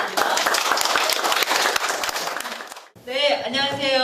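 At a knowledge-communicator contest, the audience gives a speaker a burst of clapping for nearly three seconds, loud and dense, before it cuts off and a voice starts speaking.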